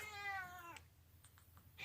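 A pet cat gives a single drawn-out meow up close, followed by a few faint clicks and rustles in a quiet room.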